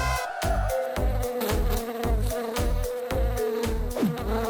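A cartoon housefly buzzes steadily in an animated scene, its whine running continuously and loud throughout, with a rhythmic pulsing layer beneath it and no talk.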